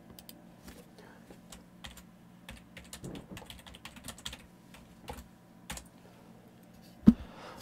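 Keyboard typing clicks scattered through the scene while someone works on a BattleTech Iron Wind Metals miniature, with soft handling noises and low background hum between keystrokes.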